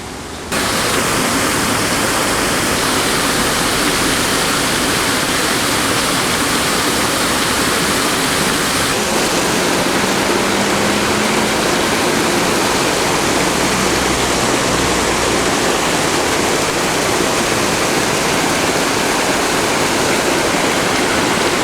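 Water pours continuously over an old mill dam on a river running toward the ocean, a loud, even, hissing roar of falling water close by with no voices.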